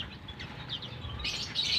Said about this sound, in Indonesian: Ini burung kacamata. Ini kacamata ya, burung kacamata.